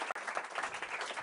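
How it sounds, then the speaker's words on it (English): A crowd claps together in a brief, steady round of applause, the sound filling the room. "Let's give them a little round of applause to get them warmed up."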